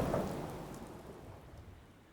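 Rain falls steadily with a low rumble of thunder fading out in the Fallout 4 Far Harbor video game, the storm sound loud at first and then slowly dying away.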